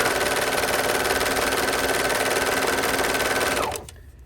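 A Juki MO-600 serger runs a steady, fast stitching whirr up close, loud and continuous, then winds down and stops just before the end.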